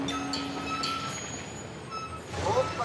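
A tar delivery truck labours up a narrow mountain road along a ravine, its engine a low grinding hum with high whines and brief hisses, rising in loudness near the end.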